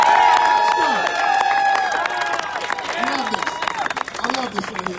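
Rally crowd cheering and clapping for a politician, a loud dense wash of applause and shouts that swells at the start and stays strong, with a voice speaking over it.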